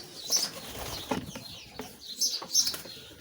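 Pigeons in a Romanian coop, including a male dove, with wing flaps and soft cooing heard in several bursts, close by, amid faint rustling and background bird noise.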